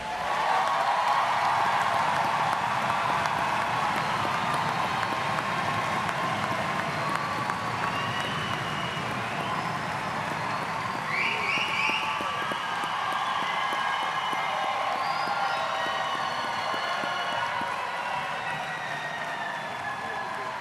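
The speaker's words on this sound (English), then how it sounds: "please join me in applauding our master's degree recipients" Audience applauding master's degree recipients at a university commencement ceremony, a steady, dense wash of clapping and crowd noise sustained throughout, with a few scattered cheers and whistles mixed in.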